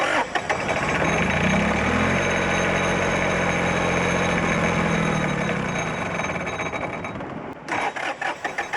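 A 1953 Kenworth bus engine, just fitted with a new belt and fuel filter, starts and settles into a loud, steady idle with a rough, uneven note; it trails off toward the end, sputtering as air purges from the fuel system.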